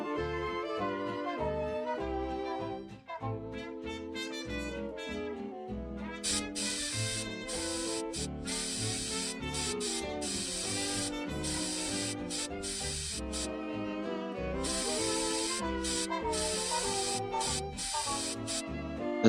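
Lacquer hisses from a spray can onto the cabinet of a 1939 Stromberg Carlson Model 430-H radio in long bursts, a soft steady spray heard under background music.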